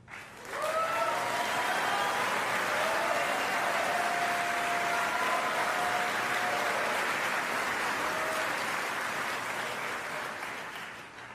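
Sustained audience applause fills a basketball Hall of Fame induction ceremony, a dense steady roar of clapping that swells quickly and holds for several seconds before tapering near the end, with no speech over it.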